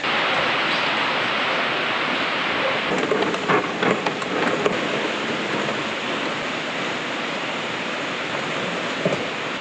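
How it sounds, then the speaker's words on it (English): Heavy spring rain pours down outside a farm barn, a dense, continuous loud hiss throughout, with a few brief heavier spatters along the way. "It's just pouring outside."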